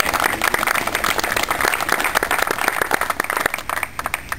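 An audience breaks into applause during a meeting about a shipyard, a steady burst of clapping that holds for a few seconds and thins slightly toward the end.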